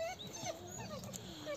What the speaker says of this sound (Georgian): აი ნაგაზი